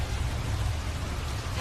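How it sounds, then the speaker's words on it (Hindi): Steady rain with a dense low rumble, continuous and fairly loud throughout, no voices. "ये अचानक बारिश कहाँ से आ गई?"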